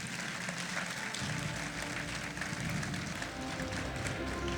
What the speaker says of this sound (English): can we please have a round of applause for them?